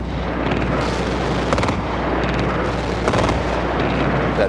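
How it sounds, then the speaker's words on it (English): Anti-aircraft fire over Baghdad during a massive bombing attack rumbles as a continuous low roar with scattered distant booms and crackling bursts, no voices over it. "What you're hearing now is anti-aircraft fire."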